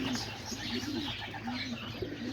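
Pigeons coo softly in a low, repeating rhythm, close by, over a steady background hiss.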